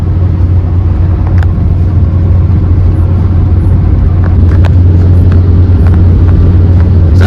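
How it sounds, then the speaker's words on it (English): A car cruises along a country highway, heard from inside as a loud, continuous low engine and tyre rumble with faint occasional creaks. "as I drive past the Tumbarumba exit"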